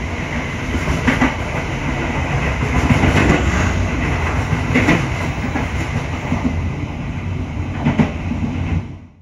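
The Joglosemarkerto passenger train rushes past on an Indonesian railway during the 2025 Lebaran travel season. Its loud, close, continuous rumble carries rhythmic clickety-clack from the wheels and cuts off abruptly near the end, with no talking.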